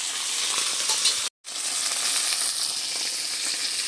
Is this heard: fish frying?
yes